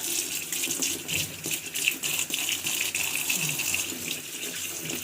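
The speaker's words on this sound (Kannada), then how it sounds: "ಈ ಥರ ಒಂದು ಮರ ಇಟ್ಕೊಂಡು ಸಿಂಕಲ್ಲಿ ತೊಳಿತಾ ಇದ್ದೀನಿ" Tap water runs steadily into a sink while goat intestines are rinsed and washed by hand, a continuous close gush with small splashes and no talking.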